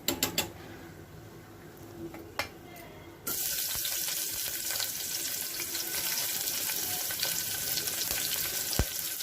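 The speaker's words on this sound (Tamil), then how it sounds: "நல்லா கோல்டன் ப்ரௌன் ஆற வரைக்கும் நல்லா ஃப்ரை ஆகணும் வெங்காயம்." Sliced onions and green chillies hit hot oil in a pan for Kashmiri pulao, a sudden loud hiss after a quieter start that settles into a steady, close sizzle and crackle with no talk.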